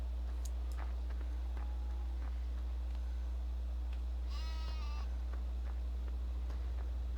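A sheep in a farming video game bleats once, a short wavering cry over a quiet steady hum, with a few faint clicks scattered around it.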